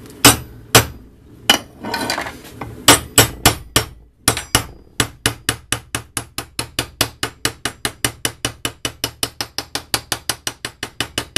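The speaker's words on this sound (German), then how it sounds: "Neuen aufsetzen. Hammer festdreschen." A hammer drives a new part onto a Simson S70/S51 moped engine during final assembly, with about forty sharp metallic blows: irregular at first, then a steady fast rhythm, loud and close, with no talking.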